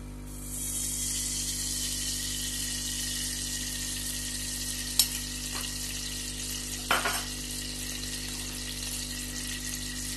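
Chicken sizzles in desi ghee in a pan, giving a steady, even frying hiss throughout, with a couple of brief clinks from stirring or placing pieces.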